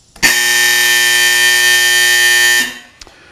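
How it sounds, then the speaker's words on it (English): A loud, steady electronic range buzzer at a fish and game club shooting range blares for about two and a half seconds to signal a range status change, then cuts off, followed by a faint click. "When we want to change from one state of range to another, the buzzer will go off."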